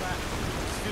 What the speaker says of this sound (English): because it doesn't stop raining